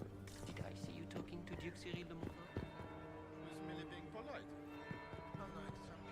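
A church bell rings in the fantasy video game Dragon Age: Inquisition, its tolling mixed into a dense bed of game music and ambience, with voices murmuring throughout.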